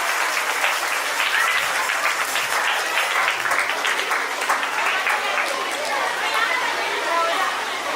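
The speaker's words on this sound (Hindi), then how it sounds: "तो प्लीज़ मैं चाहूँगा एक बार जोरदार तालियों के साथ इनका स्वागत" An audience at a school annual function applauds steadily for several seconds to welcome a guest, a dense patter of many hands clapping, with some crowd chatter mixed in.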